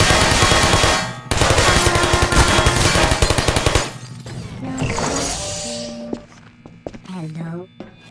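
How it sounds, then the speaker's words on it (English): Aperture Science turret from the Portal video game firing, a loud rapid burst of gunfire lasting a few seconds before stopping, followed by softer game sounds and a synthetic voice speaking. "These turrets are programmed to shoot at test subjects."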